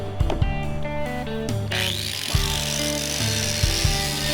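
A power tool cuts through a metal rail for a DIY skate rail, whining steadily and loudly with shifting pitch and a few sharp knocks as the blade bites in.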